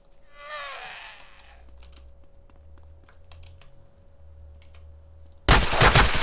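Gunfire in the survival video game DayZ: a short burst of loud shots cutting in near the end, after quieter game ambience with scattered clicks.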